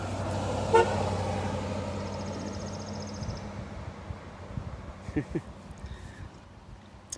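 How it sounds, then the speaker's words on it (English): A passing car sounds its horn near a road along the Appalachian Trail: one short toot near the start, then a steady vehicle hum that fades as traffic moves on, with a few scattered knocks and light noises later. "So they're always honking and waving and all sorts of things."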